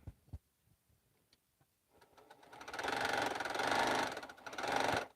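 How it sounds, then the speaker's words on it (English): Sewing machine running after a bobbin, presser foot and needle change, a few light clicks first, then a steady close mechanical whir of stitching that dips briefly and resumes, no talking. "That sounds more like a sewing machine that's just sewing than a clanking"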